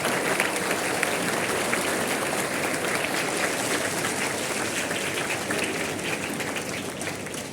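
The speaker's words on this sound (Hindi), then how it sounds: "हम रेस्पेक्टेड मैम का जोरदार तालियों से एक बार स्वागत करते हैं" Loud, sustained applause from an audience welcomes a guest at an Independence Day event, holding a dense, even level throughout before easing slightly at the end.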